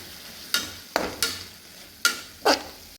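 Chicken for Maggi soup is stirred in a pan, a soft sizzle punctuated by about five sharp scraping strokes of the spoon, close and clear with no talk.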